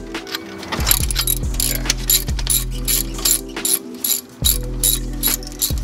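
A ratchet wrench loosening a car brake caliper bolt, with a run of quick metallic clicking strokes in short bursts and brief pauses between swings, close and clear.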